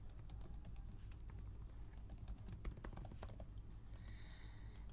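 Typing on a computer keyboard: a quick, irregular run of soft key clicks, close and quiet, heard alone without talk.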